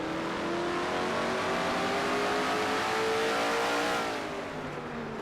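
Race car engine in a racing sim, the NNSCRA Castrol GTX Cup race at the Goody's Fast Relief 500, revving hard and holding a loud, steady high-pitched drone near 9,600 RPM, then easing slightly toward the end.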